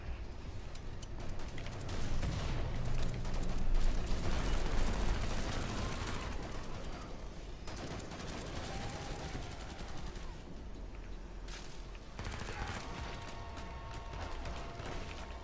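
Rapid gunfire and clattering weapon mechanisms from the video game Killing Floor 2, dense sustained bursts of shots layered with metallic ratcheting and gear-like clanks, continuous and loud with no pause.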